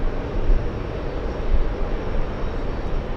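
A Delta Airbus A330-900neo widebody airliner landing at JFK airport, a steady low engine rumble and roar heard from a distance, fairly even in loudness with no talk over it.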